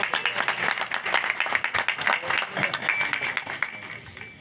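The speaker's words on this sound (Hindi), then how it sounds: "जरा जोरदार तालियां बजाएं।" Applause from the crowd at a pigeon fanciers' gathering in Faisalabad, many hands clapping in sharp, uneven bursts that swell and dip, fairly close and loud throughout.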